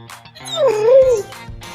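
A friendly dog met in Mineral de Angangueo, Michoacán, lets out a rising-falling whine and short yips, loud and close, with faint background sounds around it.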